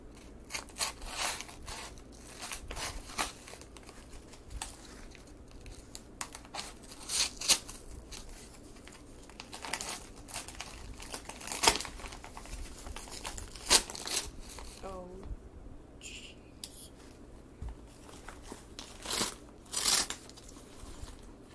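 A cardboard unboxing package cut open and pulled apart up close, with repeated crinkling, snipping and tearing noises in short irregular bursts, fairly quiet throughout.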